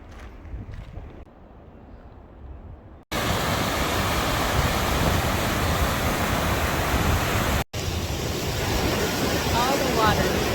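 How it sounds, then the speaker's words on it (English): A mountain waterfall in Colorado roars as a dense, continuous rush of water, faint and distant at first, then loud and close for the remainder with a brief cut, no voices over it. "You can still hear the waterfall."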